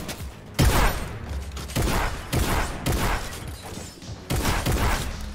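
Rapid bursts of gunfire from the video game Fortnite, loud and close, recurring in several clusters with short gaps between them, with no talking over the shots.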